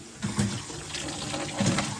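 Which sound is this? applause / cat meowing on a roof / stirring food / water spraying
water spraying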